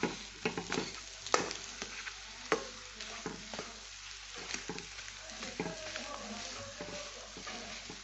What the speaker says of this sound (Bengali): একটু গোলমরিচ গুঁড়ো দেবো এইভাবে এটা কষে নেব